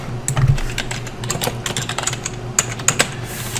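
Keys clatter on a computer keyboard as a search query is typed, a fast uneven run of close, crisp clicks with no talking.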